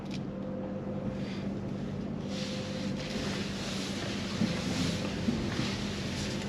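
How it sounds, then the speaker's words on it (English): A steady engine drone from a Kia Sportage hybrid SUV hums continuously with a low tonal rumble and broadband noise, fairly loud and unbroken throughout. "the engine just turned on"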